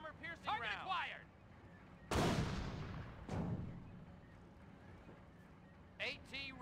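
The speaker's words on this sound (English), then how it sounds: "Load armor piercing target round." In a Company of Heroes battle an anti-tank gun fires an armor-piercing round as one loud, sharp boom that rumbles away, with game voices heard before and after it.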